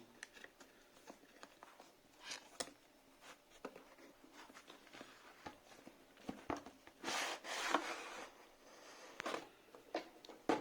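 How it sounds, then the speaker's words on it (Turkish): Cardboard packaging for a Philips All-in-one Trimmer 3000 Series is pried open up close, with quiet scraping, rubbing and crinkling plus scattered clicks and taps, growing louder in a burst of tearing toward the end. "Kutuyu açmaya başarabilirsem"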